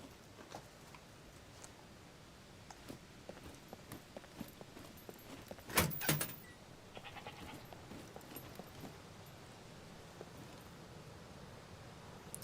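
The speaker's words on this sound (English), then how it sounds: "Sounds like a goat." An animal bleat resembling a goat in the survival game SCUM, one short loud call in the middle against quiet ambient game sound with scattered light footstep-like clicks.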